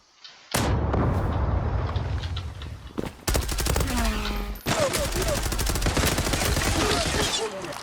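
Rapid automatic gunfire and bursts from a Zula online shooter match, loud and near, nearly continuous across the whole stretch with a few short breaks, with no talking.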